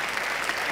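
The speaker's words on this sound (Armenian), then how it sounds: "Մի հատ ծափարենք Արսենին" Brief burst of steady audience applause in a club, dense and even throughout the short moment with no voices standing out.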